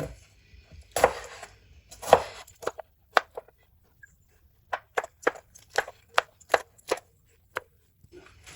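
A knife chops a green chili and a tomato on a board with crisp, close taps. Two heavier cuts come first, then a quick, fairly even run of single knocks separated by short gaps. No one speaks.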